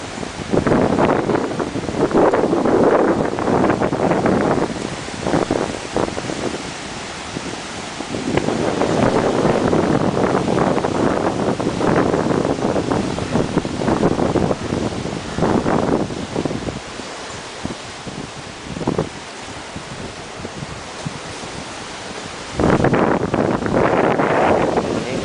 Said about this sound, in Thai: จะได้ยินเสียงคลื่นเสียงลมเสียง